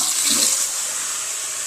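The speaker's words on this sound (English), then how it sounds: "Water runs." Tap water runs into a kitchen sink fitted with a newly installed garbage disposal and a white faucet with a sprayer line, a steady close hiss with a brief splashier burst near the start.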